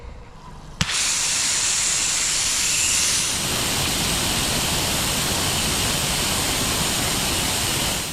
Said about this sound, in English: Wasting water or watering the lawn.